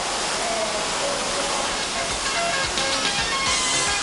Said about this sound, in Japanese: 池や滝がみずみずしいオアシスの雰囲気を作り出しています。